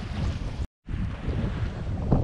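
Strong gusts of wind off Stave Island buffet the microphone in rough roaring bursts on a blustery morning, with a brief cutout partway through.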